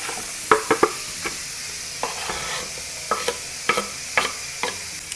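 Garlic sizzling with softened onions in bacon grease, a low steady fry broken by sharp clicks and scrapes of a spoon stirring the pan, close and clear.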